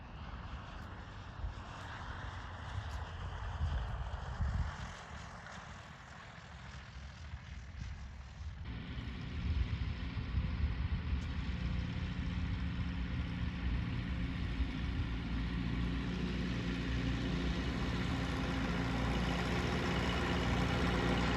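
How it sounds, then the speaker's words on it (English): A small propeller airplane arrives at an airport, its engine droning steadily and moderately loud throughout, with the pitch and tone shifting partway through as it taxis closer, heard alone without talk. "I flew home with our new airplane"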